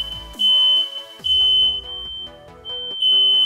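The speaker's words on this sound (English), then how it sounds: "my smoke alarm's just shut off" A household smoke alarm sounds in a workshop where cables are being tested, giving loud, piercing high-pitched beeps in three or four long bursts with short gaps between them.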